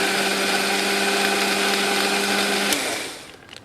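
A blender whizzes plain natural yogurt with ice and a little salt in a kitchen, a loud steady motor whine with a strong hum that runs evenly for nearly three seconds and then cuts off abruptly, leaving faint room noise.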